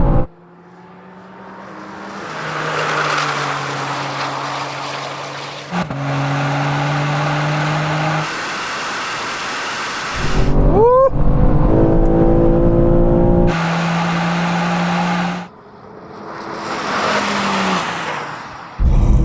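Manhart-tuned BMW M3 and M2 cars roar through a drag race. Loud engine notes climb in pitch and drop at several gear changes, with a sharp rising rev and an intense stretch as the cars pull hard, then fade at the end.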